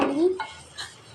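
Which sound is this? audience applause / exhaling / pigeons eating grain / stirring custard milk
stirring custard milk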